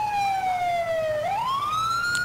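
A police car siren in the video game GTA IV wails loudly and continuously, its pitch sliding down and then sweeping back up in a single cycle.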